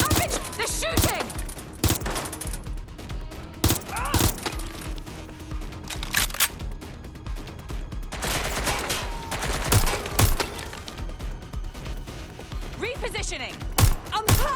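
Rapid bursts of gunfire from the video game Watch Dogs Legion, loud and close, with repeated sharp cracks and volleys through most of the stretch, mixed with game voices and effects.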